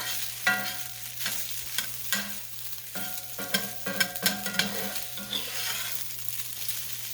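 Fried rice with sesame seed oil sizzles steadily in a pan, with repeated scraping stirs and clinks of the utensil rising above the constant frying hiss.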